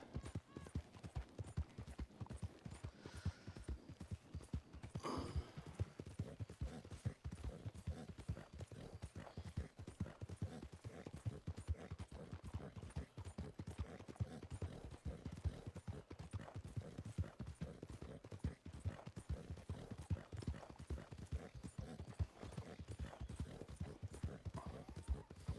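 Steady clip-clop of horse hooves in a Western roleplay video game, a quiet, continuous rhythmic trot that runs throughout, with a faint whinny-like burst near the middle.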